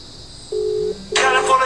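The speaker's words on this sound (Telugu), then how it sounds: "ఇక్కడ రింగ్ అవుతుంది, మీరు చూసుకోవచ్చు." A WhatsApp call ringing on a mobile phone: two steady ringback tone pulses, each under half a second, with a burst of broadband noise over the second pulse.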